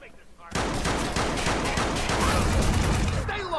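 Dense rapid gunfire from the video game Watch Dogs erupts suddenly after a quiet start, loud sustained bursts of shots with machine-gun-like rattles running continuously to the end.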